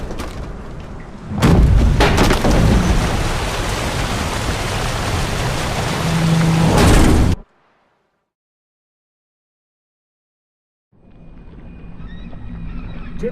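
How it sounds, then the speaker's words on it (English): A storm at sea in an audio drama: a heavy roar of wind, rain and churning water surges loudly for several seconds, then cuts to silence before a quieter ambience returns. "Didn't bargain for no storm."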